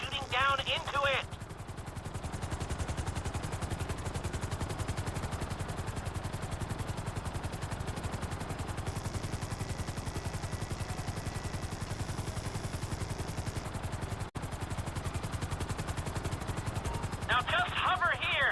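A helicopter hovers steadily in GTA 5 over a large hole, its rotor drone continuous and close throughout, with brief clattering bursts near the start and end.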